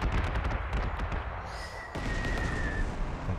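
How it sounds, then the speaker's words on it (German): Dense rumbling blasts and crackling booms from a bomber attack in the video game Panzer Corps 2 roll continuously, loud and close, with no talking over them. "Ah, knallt ein Bomber drauf."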